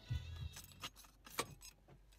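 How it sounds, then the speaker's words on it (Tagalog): Keys jangling as the key is pulled from the ignition of a 2005–2012 Nissan Pathfinder, with several bright metallic clinks in quick bursts close by inside the car. "So tatanggalin ko tong susi."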